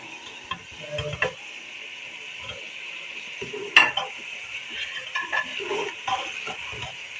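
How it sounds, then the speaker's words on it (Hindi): Chicken with ginger paste, green chillies and spices is sautéed in a pot with a soft, steady frying hiss, while a utensil scrapes and clinks now and then up close. "और 5 मिनट के लिए हम इसको ऐसे ही भूनेंगे"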